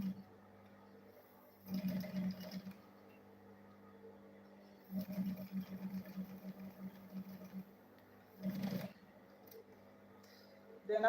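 A sewing machine stitching fabric for a small purse, running in three short bursts of rapid whirring with quiet pauses between them.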